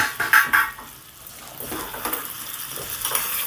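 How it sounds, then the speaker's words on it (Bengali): Fried potatoes tipped into cooked masala in a pan, a few close metallic clinks and scrapes of utensils against the pan, followed by a soft, steady sizzle. "দিয়ে দিলাম ভাজা আলুগুলো"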